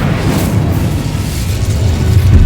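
Incendio fire spell cast in the video game Hogwarts Legacy, a loud, sustained low roaring burst that holds steady for a couple of seconds with no talking.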